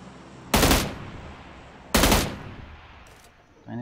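Gunfire from a gun in the video game PUBG Lite: two loud, sharp shots about a second and a half apart, each with a fading tail, and the start of a third shot right at the end.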